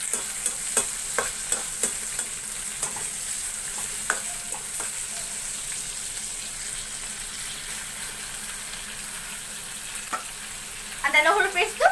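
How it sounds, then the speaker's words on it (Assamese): Chicken pieces and onions fry in a pan with a steady, close crackling sizzle, punctuated by sharp clicks of stirring; a voice briefly speaks near the end. "মই ৰঙচুৱা হোৱালৈকে চিকেনখিনি ফ্ৰাই কৰি থাকিম পিঁয়াজখিনি দেই পিঁয়াজখিনি ফ্ৰাই কৰি থাকিম"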